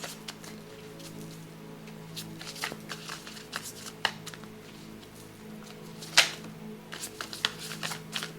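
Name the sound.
shuffling tarot cards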